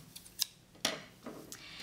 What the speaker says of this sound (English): if you cut on the dotted line, can become your the actual body of the rocket. I'm going to cut there.